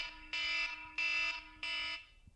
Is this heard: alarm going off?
yes